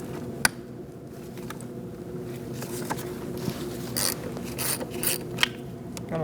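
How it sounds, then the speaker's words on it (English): A ratchet with a 10mm socket clicks as it loosens the positive battery terminal on a 2008-2014 Mercedes-Benz C300, giving quiet, uneven ratcheting and a few sharp metallic ticks close by, with no talk. "you're going to remove your positive using a 10mm socket."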